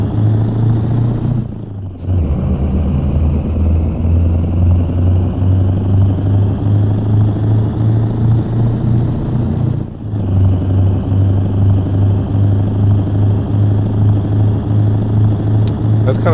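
A heavy loaded truck in American Truck Simulator grinds up a hill in first gear, its engine droning loud and constant with a high whine, dipping briefly twice at gear changes and then resuming.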